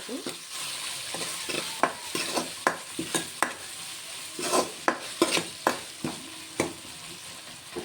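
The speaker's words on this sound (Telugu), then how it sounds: "టమాటాలు ఉడుకుతున్నాయి" Tomatoes cook with salt in a pan, a soft sizzle broken by repeated sharp scrapes and taps of a spoon stirring against the pan, close by with no voices.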